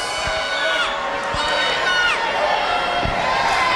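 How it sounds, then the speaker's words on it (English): A loud, vocal crowd at a middle school wrestling night in a gym fills the air with continuous cheering and shouting, whistles and calls rising over the steady roar, with occasional thuds and no pause throughout. "Crowd is very, very vocal."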